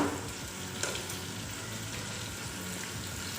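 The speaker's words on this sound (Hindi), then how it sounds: "हल्का सा भून लेते हैं, और साथ चले जाएंगे जो हमने साबुत गरम मसाले रखे थे" Whole garam masala spices frying lightly in a pan for a restaurant-style degi chana pulao give a steady, close, crackling sizzle throughout. A brief stirring clatter comes near the start, and no voices are heard.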